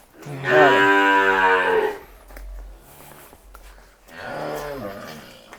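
A loud, drawn-out moo rings out close by at a livestock sale in Kairon village near Patti, Punjab, followed after a pause by a second, shorter lowing call.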